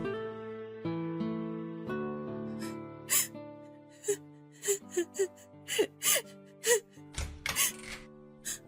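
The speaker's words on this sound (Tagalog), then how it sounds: "Narinig ko po kasi kayong umiiyak." A person cries indoors in a radio drama scene, sobbing in ragged gasps and whimpering breaths over a sustained, soft musical backing that runs throughout.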